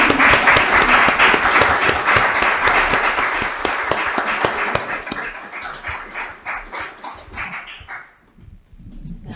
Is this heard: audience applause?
yes